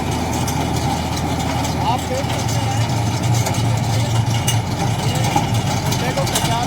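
A tractor-drawn tiller digs pits in an unploughed field being readied for sugarcane sowing, its engine running as a steady, loud low rumble throughout while someone speaks over it.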